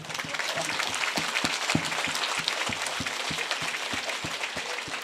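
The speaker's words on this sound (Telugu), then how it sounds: "big claps" Audience applause at a spiritual talk, a dense steady wash of clapping with sharp individual claps standing out, sustained loudly for the whole stretch.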